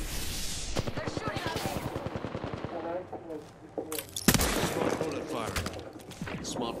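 Rapid automatic gunfire in the Apex Legends ranked Ballistic mode, dense bursts of shots with a brief lull midway before another loud burst, with a voice talking over the firing.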